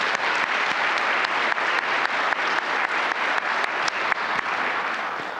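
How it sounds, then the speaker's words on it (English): A conference audience applauds award winners at VIS 2023, steady clapping from a sizable crowd lasting several seconds with no voices over it. "let's give one more round of applause for all of our award winners today"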